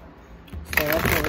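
A quick riffle of playing cards being shuffled, a short crisp fluttering burst that starts after a brief quiet moment.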